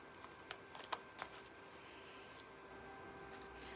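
Tarot cards being shuffled, several soft riffling flicks and snaps in the first second and a half, then a faint hush of background noise, quiet and close.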